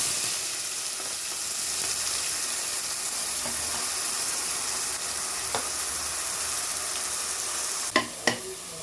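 Onions, green chillies and ginger garlic paste fry in hot oil for mutton gravy with a steady, close sizzle. Two sharp metallic clatters come near the end.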